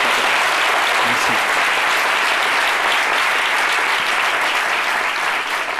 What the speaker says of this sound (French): Très grand applaudissement.